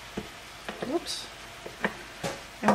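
Six tablespoons of butter melt in a pot with a soft, close sizzle, broken by a few light clinks and stirring knocks and the occasional faint voice.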